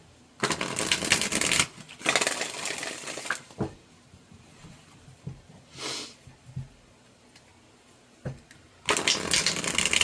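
Tarot cards being shuffled in several crisp riffling bursts, separated by quiet pauses with soft handling taps, close and fairly loud.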